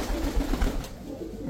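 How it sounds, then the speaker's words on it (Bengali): A Red European Toy Lahori pigeon sitting on its eggs gives a low, throaty coo, close and brief, fading out after under a second. "একদম ডিমের উপরে আছে কবুতরটা"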